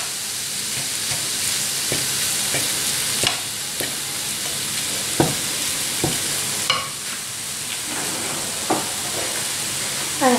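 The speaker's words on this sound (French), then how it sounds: "je vais continuer à écraser mes morceaux de bœuf, de viande hachée, avec la spatule en bois pour éviter d'avoir des paquets" Minced beef sizzles steadily in a pan while a wooden spatula stirs and mashes it, giving a series of sharp scraping knocks every second or so over the continuous frying hiss.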